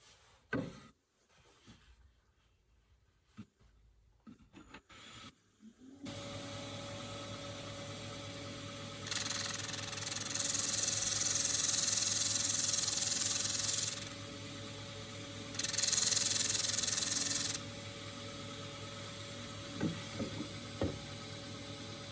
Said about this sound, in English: I'll just try and sand out a little bit of the inside, which I'm doing up against the rim here.